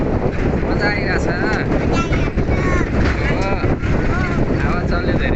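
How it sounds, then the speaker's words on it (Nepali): Strong wind buffets the microphone during a jungle safari in a large forest, a loud continuous rumbling gust-noise with voices faintly audible underneath. "हावा चल्यो धेरै।"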